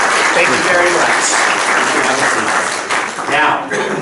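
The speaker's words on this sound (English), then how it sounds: "Let's all give Frank a big round of applause" Audience applause for Frank during a painting lesson, a dense, steady wash of clapping that holds for about four seconds, slightly uneven near the end, with some voices mixed in.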